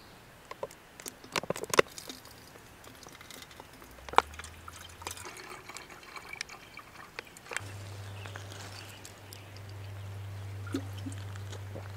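Water drips and patters irregularly through a camping water filter outdoors in the Canadian wilderness, a scatter of close small drops and trickles with a low hum appearing partway through.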